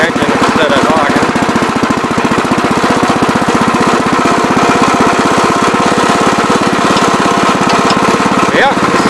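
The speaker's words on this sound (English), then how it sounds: "Chugging along here in low gear." Terramite compact loader engine chugging steadily in low gear, a loud, continuous rhythmic diesel-like thumping close by with no pauses, plus a brief higher whine near the end.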